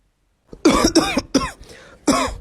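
Four harsh coughs in quick succession, close and loud, with a short pause before the last one.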